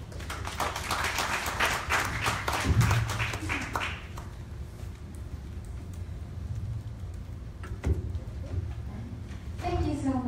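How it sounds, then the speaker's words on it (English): An audience at a panel talk on family businesses gives a short burst of clapping that fades after a few seconds, followed by quieter room noise and a speaking voice. "Another round of applause for Ms. Delfin."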